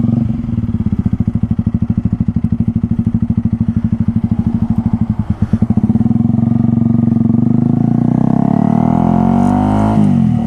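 A 1000RR sport motorcycle engine idles loudly up close with a rapid, choppy exhaust pulse, then revs up into a rising, smoother roar before settling into a strained whine.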